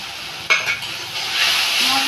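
Spice masala with cumin paste, salt, turmeric and chili powder frying in a pan, a sharp clink of a utensil followed by a steady close sizzle that swells toward the end.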